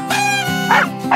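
A cartoon dog gives two or three short, close barks in a children's learning song, punchy and evenly spaced over a sustained musical tone.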